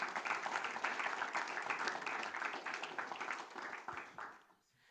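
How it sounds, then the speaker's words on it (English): Dense applause from a conference audience thanking the panel speakers at an EU-Morocco green partnership event, steady and fairly distant, tapering off near the end. "So if I can ask for a big round of applause to all the speakers that have joined us in this."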